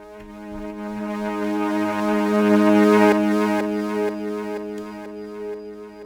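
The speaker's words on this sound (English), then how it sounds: "reverse washes that I like to do." Reversed synth washes built from reverb and delay tails swell slowly in a sustained harmonic pad, rising to a peak midway before easing off, with no one talking.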